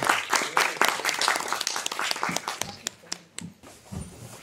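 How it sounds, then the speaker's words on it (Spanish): Scattered applause from an audience at a robotics and IoT contest event, starting strong with individual claps and then thinning out into a few last taps. "Vamos a darle un fuerte aplauso a Toiku."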